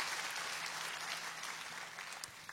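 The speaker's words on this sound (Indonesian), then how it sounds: "Boleh tepuk tangannya yang paling meriah buat Yesus Tuhan kita." A church congregation applauds during a sermon, a continuous wash of many hands clapping at moderate distance, fairly faint and steady throughout.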